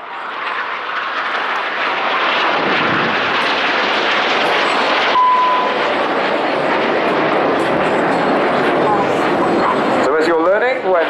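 Aerobatic display jets roaring through a final pass at a seaside air festival, a loud, sustained broadband engine rush filling the whole clip with a rising whine near the end.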